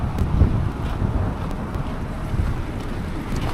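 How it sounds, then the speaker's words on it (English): Wind gusting outdoors at night, a low steady rumble buffeting the microphone, alone without talk. "It's a little windy tonight."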